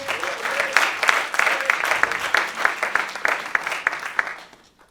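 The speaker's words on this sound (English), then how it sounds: "At the keyboard, a wonderful round of applause," At a tribute concert, an audience applauds the keyboard player, a thick swell of clapping with crisp individual claps poking through, holding steady before tapering off into quiet at the end.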